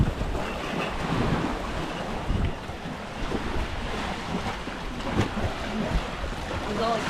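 Ocean surf on Paradise Beach on Bantayan Island rolls and washes continuously near a cave, a steady rushing roar mixed with gusty wind buffeting the microphone.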